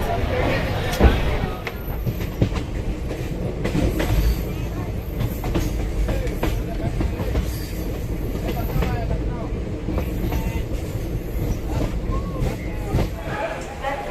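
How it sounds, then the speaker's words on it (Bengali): Train 12328 Doon Express pulling out of Haridwar toward Howrah, heard from on board as a steady low rumble and rolling clatter of the carriages, with occasional knocks and some voices in the background. "আমাদের ট্রেন হরিদ্বার থেকে রওনা দিল হাওড়ার পথে"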